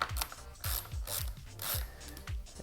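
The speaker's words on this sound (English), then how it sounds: "the first step will be to remove these fasteners here from the top" A ratchet wrench clicks steadily while fasteners are loosened on a Yamaha FZ-07 motorcycle, about seven rhythmic pawl strokes in a row, close and crisp with no voices.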